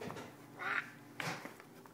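A small child imitates a duck with two short nasal quacking sounds, spaced about half a second apart, against quiet room noise.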